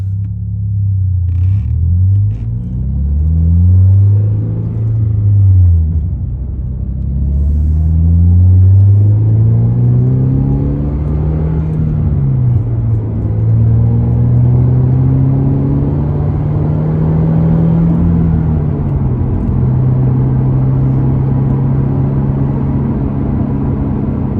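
A 2023 Toyota GR86 fitted with a new aftermarket exhaust drives along a road, its loud, close engine note rumbling and climbing through several revs and shifts before settling into a steady drone, with no talking.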